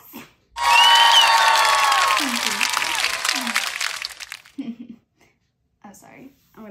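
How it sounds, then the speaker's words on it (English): A burst of applause with high whistling cheers swells up suddenly, fades over a few seconds, and then a voice talks briefly in a quiet room. "Applause, please."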